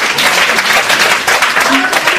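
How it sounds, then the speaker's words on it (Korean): Short burst of dense applause from a seminar audience on American exchange students, even and fairly loud throughout. "이럴 때 박수가 나온다고 했어요."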